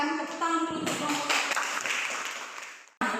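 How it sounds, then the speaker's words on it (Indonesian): Classroom of students clapping for a group after a presentation, a dense burst of applause that swells and then cuts off, with a voice briefly heard at the start. "Silakan tepuk tangan dulu untuk kelompok"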